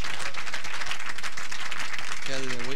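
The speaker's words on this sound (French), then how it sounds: "Même son rival l'applaudit aussi." Steady applause and clapping from spectators at a bowling match between two players, after a tenth consecutive strike. The clapping is fairly loud and continuous, and a commentator's voice comes in near the end.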